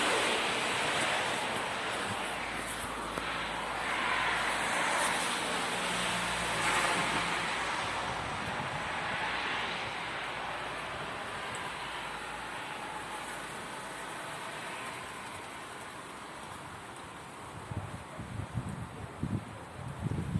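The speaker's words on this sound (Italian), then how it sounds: "Bel casino, c'è un po' di vento" Strong, cold southerly wind gusts and roars steadily outdoors at a rural hamlet near the Prealps of Vittorio Veneto, a broad rushing hiss rising and falling, with some rustling and a few louder buffets near the end.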